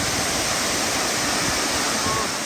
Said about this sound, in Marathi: गौरव, कसा वाटला हा धबधबा?